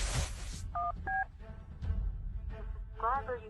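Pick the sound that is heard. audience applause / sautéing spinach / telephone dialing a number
telephone dialing a number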